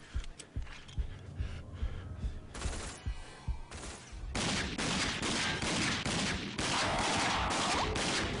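Pistol fire in the first-person shooter video game Rage, a string of sharp shots in quick bursts that gives way to a dense, continuous roar of gunfire and explosions.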